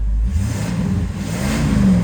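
A 1986 Pontiac Grand Prix Aero 2-door coupe engine revs up close and loud, a low rumbling drone whose pitch climbs steadily over about two seconds.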